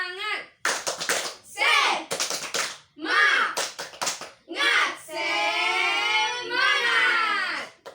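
Children in a classroom clap along to a rhythmic chant, voices chanting between and over bursts of hand claps, loud and close.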